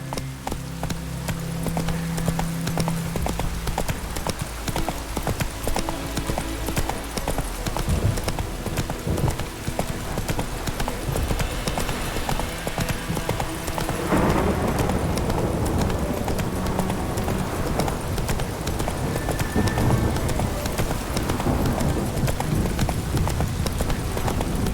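Roach, the horse in The Witcher 3, trots along in a steady, dense clip-clop of hooves against a loud, continuous backdrop that thickens partway through.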